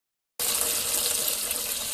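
Water from a tap flushing a dishwasher line during an installation, switched on abruptly after a short silence and then running in a steady, close hiss and splash.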